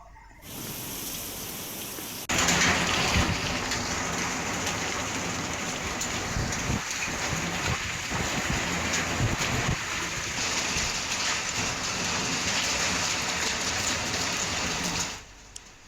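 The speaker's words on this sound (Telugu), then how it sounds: "ఈదురు గాలులతో కూడిన ఓ మోస్తరు వర్షం కురుస్తోంది" Steady, heavy rain with gusty winds pouring down without a break, a dense hiss of drops on surfaces that continues for most of the recording before cutting off.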